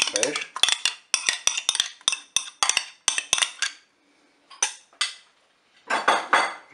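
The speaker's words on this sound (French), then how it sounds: "Je mélange." A spoon stirs a leek and potato gratin mixture in a Cookeo pot, a steady run of close metallic scrapes and clinks against the bowl in rhythmic bursts, with a brief pause before one last flurry.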